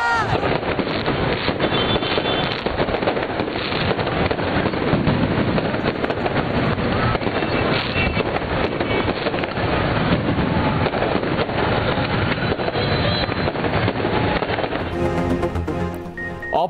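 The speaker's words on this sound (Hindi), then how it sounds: "मुस्लिम लीग नून का लिबर्टी चौक लाहौर पर शानदार आतिशबाजी का मुजाहरा, आसमान रंगो नूर से नहा गया" A celebratory fireworks display at Liberty Chowk in Lahore crackles and booms in a dense, unbroken roar, heavily mixed with wind buffeting the microphone.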